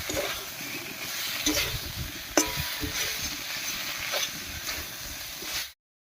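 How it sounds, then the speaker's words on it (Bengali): Eggplant and potato frying in spice paste make a steady sizzle, broken by scraping stirs against the pan, then it stops abruptly near the end. "এবার এর মধ্যে বেগুনগুলো দেবো এবার আলুর সঙ্গে খুব ভালো করে মিশিয়ে দেবো"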